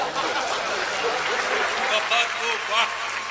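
At a Hindi comedy poetry gathering, an audience claps in a dense, sustained patter that swells slightly toward the end, with the crowd filling the space and voices faintly mixed in.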